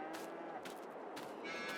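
Cattle at an outdoor cow pasture in Farming Simulator 22 give a few low, drawn-out moos over a steady ambient bed, faint and somewhat distant, with no talking.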